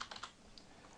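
Brief bursts of keystrokes on a computer keyboard as a username is entered, a few quick clicks at the start followed by scattered lighter taps, close and quiet.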